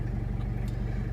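A 2003 Toyota Kijang LGX diesel engine idles steadily up close, a low, even rumble with a regular pulsing throb throughout and no talk over it.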